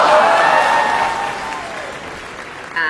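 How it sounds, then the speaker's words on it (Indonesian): A short applause sound effect plays with a Canva presentation curtain transition, a loud burst of clapping that thins and fades over a couple of seconds before a brief click at the end. "Dan ada suara seperti tepuk tangan, seperti itu."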